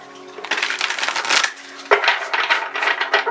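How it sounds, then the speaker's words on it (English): Tarot cards from the Tarot of Light deck being shuffled by hand, crisp papery riffling bursts in two main runs with a short pause between, fairly close and alone. "I will just get into shuffling."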